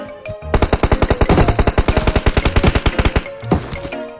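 Loud rapid automatic fire in PUBG Mobile, a steady run of about thirty evenly spaced close shots over three seconds, then a couple of single shots, with no talking over it.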